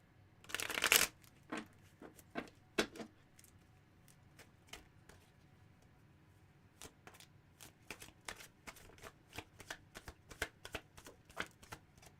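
A new deck of Buffy tarot cards is shuffled by hand at close range. A loud riffle comes first, then a long run of crisp, uneven card flicks and taps with short pauses between them.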